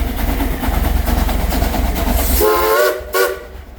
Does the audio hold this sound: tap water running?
no